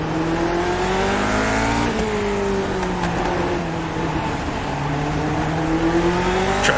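A Lotus 49 race car in iRacing at Okayama, its engine revving and dropping with clear harmonic pitch sweeps through gear changes, loud and continuous, with no talk over it.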